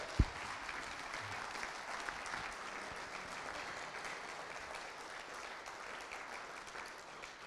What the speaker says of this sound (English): Let's give a round of applause for these guys up there